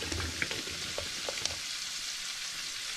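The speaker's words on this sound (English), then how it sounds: "Oh yes, that's boiling away just nicely" Water in a pot boils steadily as brew sugar is stirred in for a home-brewed cream soda hard seltzer, giving a faint, continuous bubbling hiss with a few small clicks and no voices.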